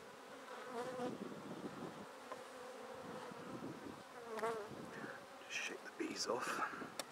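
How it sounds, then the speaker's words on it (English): Honey bees buzz around the entrance of a hive box fitted with a Morris board, a close, continuous insect drone with a few louder passes and faint voices underneath. "the bees are using this entrance to the right hand side box"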